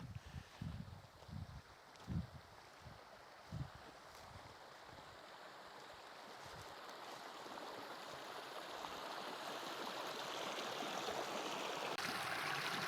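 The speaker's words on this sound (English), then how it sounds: "There is running water" A running stream flows right beside a wild camp in Norway, a steady rushing babble that swells louder over the clip, with some low knocks early on and no talk.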